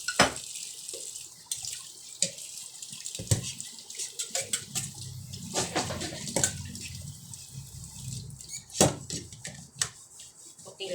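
Running tap water pours steadily while dishes are washed by hand in a home sink, with clinks and clatter of plates and utensils scattered throughout, close and fairly loud.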